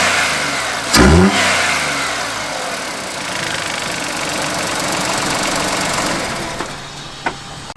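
A VW Fox 1.2 fitted with a cold air intake revs sharply once, a loud deep burst that falls back to a rough, knocking idle, followed by a couple of short blips near the end.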